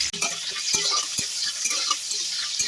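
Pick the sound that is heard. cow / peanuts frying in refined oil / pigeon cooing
peanuts frying in refined oil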